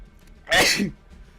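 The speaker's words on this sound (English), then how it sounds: "Okay, I gotta sneeze." A single loud, abrupt sneeze bursts out close up after a quiet pause, then fades quickly into silence.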